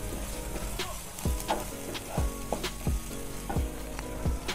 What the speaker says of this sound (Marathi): पुन्हा हे व्यवस्थित मिक्स करायचे.